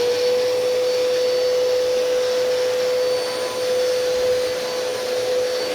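A Bissell Pet vacuum cleaner runs steadily at close range, a loud continuous motor whine with a fixed pitch over broad airflow hiss, unbroken and with no voices.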